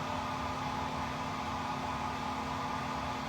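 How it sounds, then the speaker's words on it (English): A hair dryer on its low setting gives a steady, airy whir with a low motor hum that runs continuously without change. "I just have my hair dryer on low right now,"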